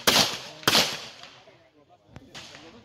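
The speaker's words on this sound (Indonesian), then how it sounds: "Ini tembakan lambat." Slow, deliberate shots from a short-barrel pistol at target practice: two sharp, loud cracks close together, a pause, then two more reports, each with a short ringing tail.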